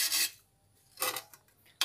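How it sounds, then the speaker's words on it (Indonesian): A leaking motorcycle fuel tank is scrubbed with sandpaper or a steel wire brush in a few short, harsh rasping strokes separated by quiet pauses, close and clear. "bersihkan dulu tangki di amplas ataupun disikat baja biar benar-benar kering dan juga tidak ada debu"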